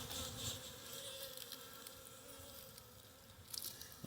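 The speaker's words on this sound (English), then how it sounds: "I do see a lot of bees in the top box" Honey bees humming around a hive on a warm winter day, a faint continuous drone with a few brief louder passes near the end.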